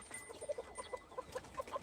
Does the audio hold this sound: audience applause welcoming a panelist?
no